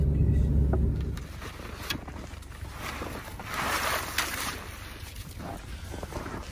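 A small boat travels across water between traps while hunting in Yakutia, its steady low engine rumble mixed with wind buffeting the microphone and rushing water, continuous and fairly loud throughout.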